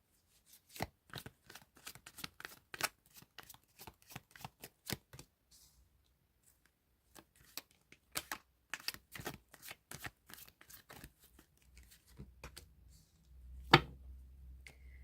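Tarot cards are shuffled by hand close up in quiet surroundings, sharp papery flicks and riffles in irregular bursts with short pauses, ending in a louder slap.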